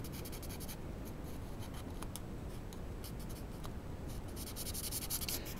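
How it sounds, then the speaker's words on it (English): Steady soft scratching and rubbing of a coloured pencil or pen filling in a leaf shape on paper, close and continuous, with a few faint clicks and no talk. "I started by colouring the whole of the leaf in."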